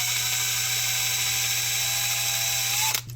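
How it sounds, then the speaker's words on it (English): A steady, high-pitched electric drill whine from a very small drill bit boring a hole runs continuously for a few seconds, then cuts off abruptly near the end. "get the teeniest drill bit you could possibly find"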